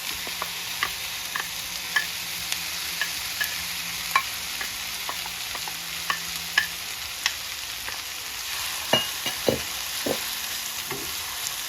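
Minced garlic and chopped onions sautéing in a pot for a seafood boil, with a steady close sizzle and occasional scraping stirs, no talking.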